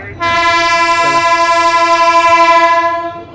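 A train horn blares loud and steady for about three seconds as a train arrives at a station in Thane, rich and sustained, with faint background noise before it starts and as it fades.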